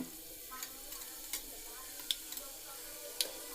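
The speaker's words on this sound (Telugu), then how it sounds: "తాలింపు వేగింది కదా" Mustard seeds, cumin and dal fry in hot oil for a tempering. The sizzle is faint and steady, with a few soft pops and crackles close by.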